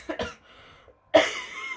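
A chesty cough from someone still recovering from illness: two quick close coughs, a short pause, then one harder, longer cough, all near and with no speech.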